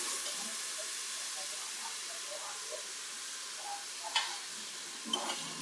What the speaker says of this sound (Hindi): अब मैं इसमें अदरक लहसुन का पेस्ट डालूंगी। थोड़ा सा इसे भूनूं।